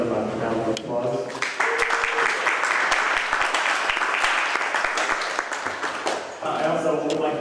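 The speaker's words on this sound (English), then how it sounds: "I'd like to give them a round of applause." A round of applause for the hosts of an evening meeting in a brick house: sustained clapping from a modest group, steady for several seconds before tapering off, with a voice speaking at the very start and again at the end.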